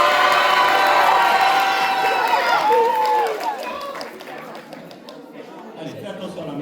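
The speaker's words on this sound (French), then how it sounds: "Allez, on l'applaudit encore une fois" Audience at a cosplay contest cheering and whooping for a cosplayer, loud crowd noise with excited high shouts that fades after a few seconds into lighter chatter.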